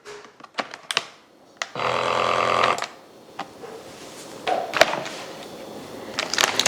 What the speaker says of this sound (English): we're gonna seal it with the sealer.